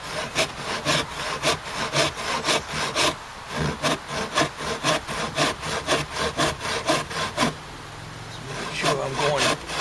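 A hand saw cuts through wood during a rotted bench repair, steady back-and-forth strokes in an even rhythm, loud and close, with a brief pause midway.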